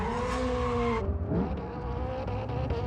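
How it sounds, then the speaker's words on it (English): A monster truck called Crib Digger drives during a Florida gymkhana run, a loud engine drone and roar that drops and shifts partway through, heard close and without talking. "The monster truck?"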